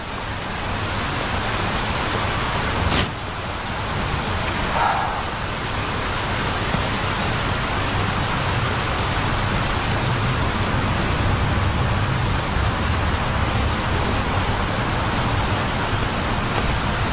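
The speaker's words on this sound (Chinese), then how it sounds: "怎么会有人真的喜欢淋雨" Steady, dense rainfall hisses evenly and continuously, fairly loud and close, with no voices over it and only a brief sharper knock near the start.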